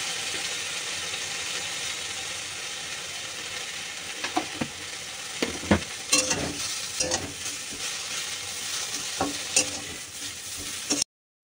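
A pan of food sizzles steadily in hot oil while a spoon or spatula scrapes and stirs it in irregular bursts after salt is added, close and fairly loud, with no talking.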